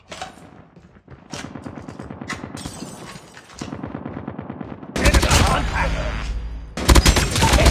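Gunfire in the Call of Duty Mobile video game: bursts of rapid automatic shots and single cracks, growing into loud dense volleys toward the end, with game voice announcements mixed in.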